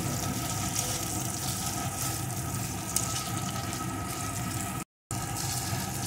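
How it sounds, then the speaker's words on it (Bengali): Potato pieces frying in a pan with oil and fish-oil mixture during Bengali home cooking, a steady close sizzle and hiss with no voices over it and a brief dropout near the end. "আলুটাও একটু ভেজে নিয়েছি"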